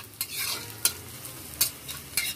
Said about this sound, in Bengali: তাই আমরা পেঁয়াজ ভেজেই নিচ্ছি।